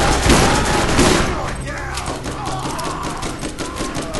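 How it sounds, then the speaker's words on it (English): Shotgun fire in the Borderlands video game, with a quick cluster of sharp, loud blasts followed by fainter scattered shots and clatter in a busy battle mix. "the shotguns are actually really nice"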